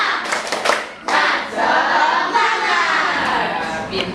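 A classroom of Indonesian children claps together in a quick patterned spirit-clap rhythm, bright and close, with a few voices mixed in.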